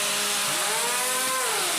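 A combat robot's spinning weapon whirs at full speed in an arena robot fight, a steady high mechanical whine that bends in pitch as it spins, loud and alone with no talking.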